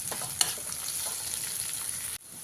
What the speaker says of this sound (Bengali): এবারে খুব ভালো করে ভেজে নিতে হবে পেঁয়াজটা